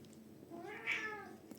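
A pet cat meows once, a drawn-out, rising-then-falling cry heard close by in a quiet room.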